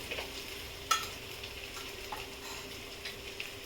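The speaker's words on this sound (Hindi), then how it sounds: "मसाला में आलू और परवल अच्छी तरह भून चुका है" Potatoes and pointed gourd frying in masala in a pan, giving a faint, steady sizzle with a couple of soft stirring scrapes and clinks, no talking.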